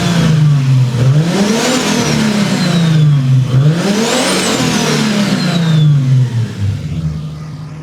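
A Nissan Skyline engine, suffering a coolant-in-cylinders problem, revs up twice with rising pitch and then falls back, loud and close with a steady mechanical drone between the surges and no talking.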